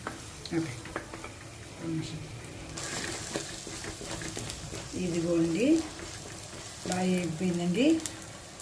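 Ginger tamarind sauce sizzles in a pan as a spoon stirs it, with a steady frying hiss and repeated scraping strokes close up while someone talks over it.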